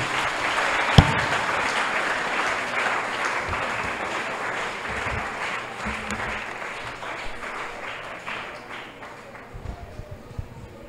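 A church congregation at a worship and praise service applauds steadily for several seconds, a dense wash of clapping heard from within the room that gradually thins toward the end, with a few faint voices underneath.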